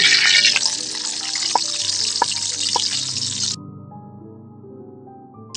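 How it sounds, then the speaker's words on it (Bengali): A loud, hissing sizzle of onions hitting hot soybean oil, crackling steadily for a few seconds before abruptly cutting to quieter background hum. "তেল গরম হয়ে গেছে, এখন দিয়ে দিব পেঁয়াজ।"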